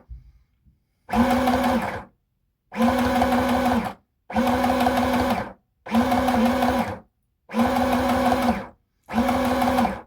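A sewing machine runs a basting stitch in six short bursts of about a second each, separated by brief pauses, loud and close with a humming motor buzz.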